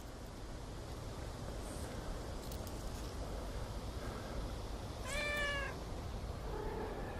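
A cat in a vineyard gives a single clear meow over a steady background rush of wind, with a faint earlier mew-like chirp.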